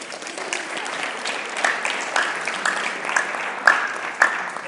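At a summer camp junior staff information session, a small audience gives steady, moderately loud applause, with a few sharper claps standing out near the end.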